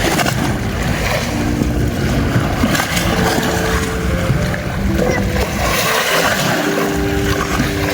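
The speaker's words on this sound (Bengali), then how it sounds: "দেখতে পাচ্ছেন অনেক বড় বড় ঢেউ এসে কিন্তু কিনারে আছড়ে পড়ছে।" Large wind-driven waves on the Padma river break against the bank, making a continuous loud roar and wash of water with gusty wind noise throughout.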